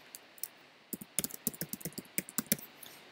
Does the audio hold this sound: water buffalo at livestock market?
no